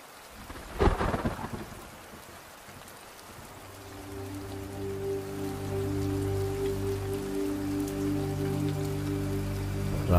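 A nighttime thunderstorm with a sharp crack of thunder early on, followed by steady rain falling and a low sustained droning tone that builds and holds to the end.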